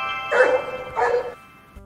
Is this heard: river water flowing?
no